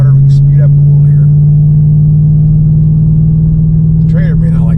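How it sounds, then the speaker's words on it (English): A 2023 Ford Raptor R exhaust in sport mode gives a loud, steady low drone while driving off-road with a trailer. Brief voices sit over the constant rumble near the start and end. "Let me actually change the exhaust note. There we go. Sport jumps up a couple notches. A little more tone to it."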